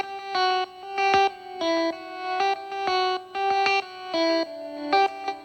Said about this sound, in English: I like the distortion tube distortion I can hear in the midst of that, and it's coming from RC20.